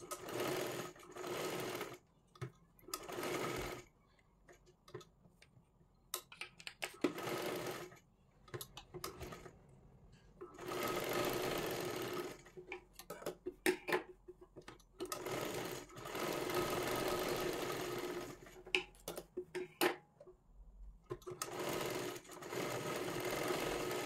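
A sewing machine stitches the back side of a child's frock in repeated bursts of rapid needle clatter separated by short pauses, close and clear, with no talking.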